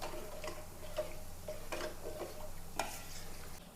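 Second coconut milk being stirred into a pearl spot fish curry in a pot, with soft, irregular scraping and tapping strokes of a spoon over a low, steady background hum; no one speaks.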